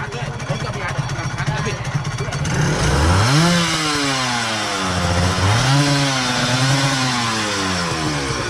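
A two-stroke, two-cylinder motorcycle engine revs up sharply twice, its pitch climbing and falling in rising whines, with a rough idle beforehand and voices faintly around it.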